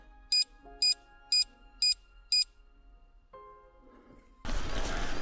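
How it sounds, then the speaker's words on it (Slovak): An e-bike boost timer, on a Steppenwolf Tundra 9.0, gives five short, evenly spaced high-pitched beeps as it counts down its final seconds, with faint tones underneath, before a sudden burst of loud broadband noise at the end. "Posledné sekundy to začne pípať"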